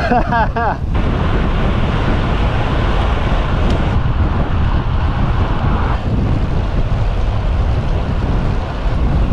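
Strong headwind buffets the microphone on a gravel bike ridden along a long road, a loud steady roar of wind noise throughout, with a brief voice at the very start.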